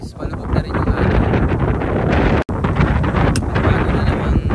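Cold wind blows at a mountain campsite, battering the microphone with loud, roaring gusts and a brief dropout midway. A voice is faintly audible beneath the wind.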